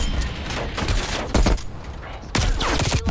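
Bursts of M60 machine gun fire in Call of Duty Cold War, loud close rapid volleys with short pauses between them, sharp repeated reports filling the whole stretch without talk.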